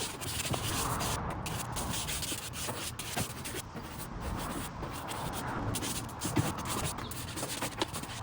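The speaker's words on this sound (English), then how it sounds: "Now back with this brush just to kind of lift up the fibres on here" Brush sweeping over freshly painted Recaro bucket seat fabric to lift the fibres: a continuous soft, close scratchy rubbing with repeated strokes and small scuffs, quiet overall and with no voices.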